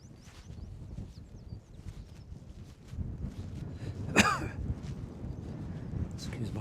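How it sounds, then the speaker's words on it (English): A single sharp cough bursts out close by on gorse-covered gravel downland at Ventnor Downs, Isle of Wight, standing out above soft wind noise and faint footsteps. "Excuse my cough."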